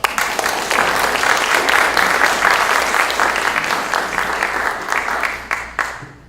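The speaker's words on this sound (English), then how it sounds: "a big round of applause" Sustained audience applause at an evening talk on fake news, a dense steady wash of many hands clapping that holds strong for about six seconds before tapering off, with no voices over it.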